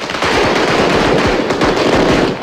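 Firecrackers bursting loudly in a rapid, dense barrage, sharp cracks overlapping like gunfire for a couple of seconds, close and intense with no talking.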